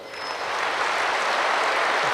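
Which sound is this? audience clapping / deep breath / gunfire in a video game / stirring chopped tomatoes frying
audience clapping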